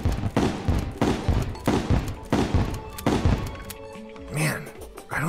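Onyx Blaster from Terraria firing in a steady rhythm of five or six loud, punchy blasts about 0.7 seconds apart, followed by a brief fizzing, whooshing tail and a faint voice near the end.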